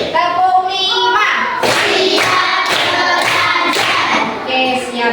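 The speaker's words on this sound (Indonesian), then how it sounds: "Tepuk 1, tepuk 2, tepuk 3, tepuk 4, tepuk 5." Children in a classroom lesson clap their hands together in a steady counted rhythm, sharp claps landing about every half second over voices chanting along.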